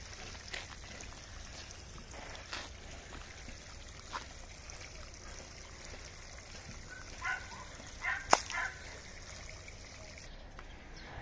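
Water from a newly drilled well runs out of a one-inch hose into a pit. The flow is faint and steady, a continuous trickle with a few soft splashes and clinks and one sharper knock near the end.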